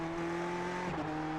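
In a racing video game, a GT3 race car engine holds a steady, loud drone, with sustained tones that dip slightly near the end and no commentary over it.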